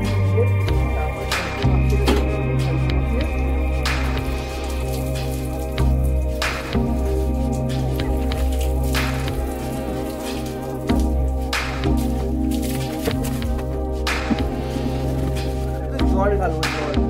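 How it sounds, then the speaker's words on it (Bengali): Water splashing and pattering over a TVS Apache RTR 160 motorbike during a home wash, a steady dripping spatter running throughout beneath a constant tonal hum. "আগে প্রথমে জল দিয়ে ভালো করে ধুয়ে"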